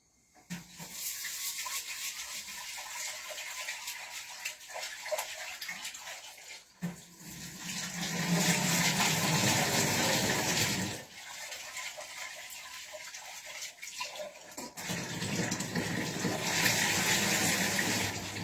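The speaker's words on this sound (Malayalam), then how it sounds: "ആദ്യം തന്നെ ഒന്ന് കഴുകി വൃത്തിയാക്കി കൊണ്ടുവരട്ടെ" Tap water runs steadily over half a cup of split mung beans being rinsed in a kitchen, a close, continuous splashing that pauses briefly twice before starting again, with no talking.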